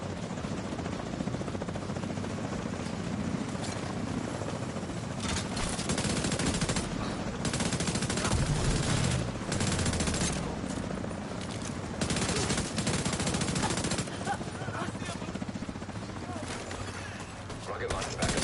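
Desert Eagle pistol gunfire in The Division 2 amid a loud, continuous battle din. Heavy shots crack repeatedly over a dense layer of rumbling, mechanical noise, with several sharp, prominent bursts standing out.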